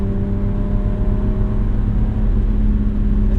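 BMW E36 328i engine running at a steady, droning rev, close and fairly loud, holding an even hum with no clear rise or fall.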